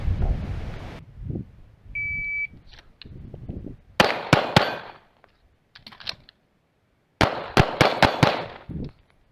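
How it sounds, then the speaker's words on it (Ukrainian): Two bursts of sharp pistol shots, each a quick series of three or four loud cracks, separated by a pause with faint magazine-change handling noises. "три постріла, зміна магазина, три постріла"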